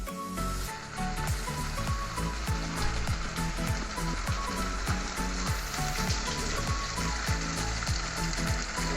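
Chicken biryani rice fries in oil for dum biryani, a dense, loud, continuous sizzle with a steady crackle beneath and no talk.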